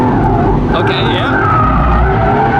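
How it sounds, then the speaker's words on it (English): A Lamborghini Aventador SVJ with its V12 engine slides sideways in an oversteer drift, giving a loud, continuous tire squeal over steady engine roar, with a person talking over it. "you can even make a V12 Lambo just oversteer and slide and have fun with it and control it"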